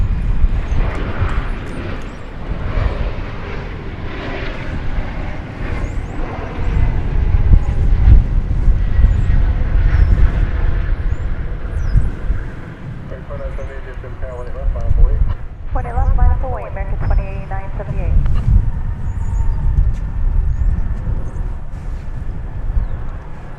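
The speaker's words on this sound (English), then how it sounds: "I believe this is the Vancouver-bound flight. It's a 737-800." A Boeing 737-800 jet at DFW Airport on its Vancouver-bound departure rumbles low and strong, building and easing across the stretch, while voices talk intermittently over it.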